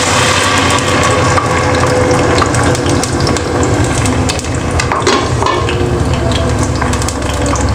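Sliced onion hits hot oil in a pan for potato and egg curry, a loud, dense sizzle with bubbling and scraping throughout, no talking.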